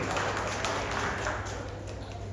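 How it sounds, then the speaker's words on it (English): Applause for the HEACC at a music ensemble event fills the room as a dense, steady wash of clapping from a crowd, sustained at an even level throughout. "So a big round of applause for the HEACC."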